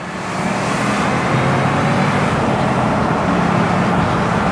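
A 2003 Ford Mustang Cobra accelerates hard over a steady, loud engine roar with road and wind noise, holding even in strength from start to end.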